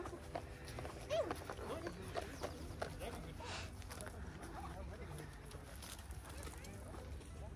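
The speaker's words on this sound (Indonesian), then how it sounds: "Oh, ada kuda, Lan" A horse walks along a path in a city forest, its hooves clip-clopping irregularly and fairly close, mixed with ambient outdoor noise while people talk over it.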